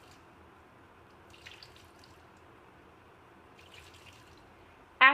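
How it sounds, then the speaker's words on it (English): Water rinses an Oakton multi-meter probe during calibration, heard as faint, brief splashing trickles in two short bursts over a quiet room background. "we are going to rinse our meter."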